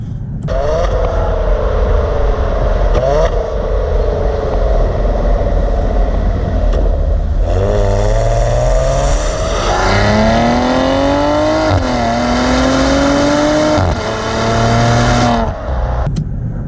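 Maserati Ghibli engine and exhaust building revs under hard acceleration, a loud close growl that climbs in pitch through repeated gear shifts, each upshift dropping the note before it rises again.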